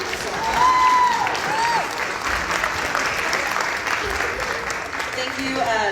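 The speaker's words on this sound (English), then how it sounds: "a round of applause" Audience applause at a school choir concert fills an auditorium, a dense sustained clapping throughout while a speaker talks over it.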